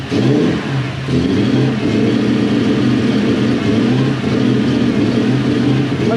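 The engine of a Toyota Celsior / Lexus LS400, a car with a fault that blows air flow meters, catches after a short crank and runs loud and close, with a steady idle and slight surging.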